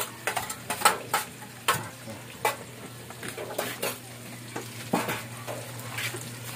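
Food sizzles in a pan while a utensil stirs and scrapes it again and again, giving a busy rhythm of close clinks and scrapes over a constant frying hiss. There is no talking.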